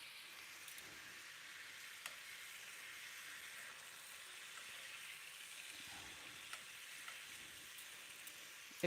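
A steady, quiet sizzle of bacon-wrapped ahi tuna searing in a hot pan, with an occasional soft pop or clink, continuous and without speech.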